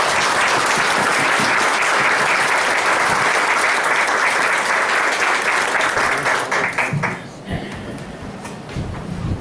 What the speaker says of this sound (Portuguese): E eu acho que vocês merecem uma salva de palmas.